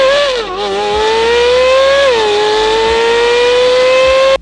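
A Chevrolet C8 Corvette Z06's LT6 V8 engine revs hard and holds a high, throaty note, dipping briefly before climbing again, loud and close, then cutting off abruptly.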